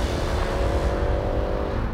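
A powerful mid-size performance estate car accelerates hard, its engine roaring steadily and loudly close by, with a sustained, even drone and no talking over it.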